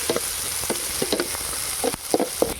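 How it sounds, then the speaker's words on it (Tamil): Green chillies and onion fry in a pan for village-style chicken Manchurian, a dense close sizzle with several quick stirring scrapes and clinks, no talking. "தொடர்ந்து அப்படியே வெங்காயத்தை போட்டுக்க மாப்பிள."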